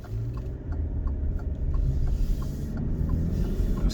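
Engine of a 2020 Alfa Romeo Stelvio Lusso TI under heavy acceleration, heard from inside the cabin as a steady low rumble and drone that swells slightly and holds, with faint mechanical creaks over it.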